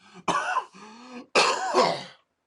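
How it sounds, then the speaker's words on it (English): A man clears his throat and coughs in two harsh bursts separated by a short pause, close to the microphone in a quiet room. "Holy sheep shit, I'm coughing now."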